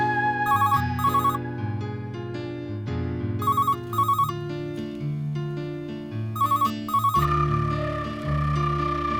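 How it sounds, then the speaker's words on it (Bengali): A telephone ringtone plays as a looping electronic melody with repeated bright chirping trills, loud and steady over a soft musical backing in a domestic drama scene. "ফোন বাজছে, শুনতে পাচ্ছ না?"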